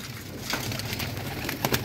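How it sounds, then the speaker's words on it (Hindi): Pigeons cooing at close range in a loft, a soft continuous burbling with a few brief scuffling sounds, no talk. "सारे कबूतर पुटने लगे हैं"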